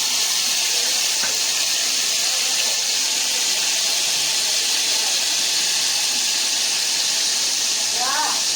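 A spoonful of ginger garlic paste hits hot oil for a Malvani prawn curry, producing a loud, steady, close-up sizzling hiss that runs unbroken throughout, with a faint voice now and then.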